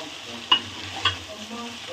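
Egg fried rice tossed in hot oil in a pan, a soft steady sizzle with two sharp scraping clinks of the spatula close by, no voices.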